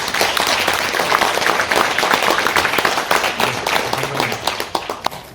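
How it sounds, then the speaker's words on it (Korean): Audience applause fills a forum hall, a dense, sustained wash of many hands clapping that thins toward the end into scattered individual claps. "한 번 더 박수 쳐주시겠습니까?"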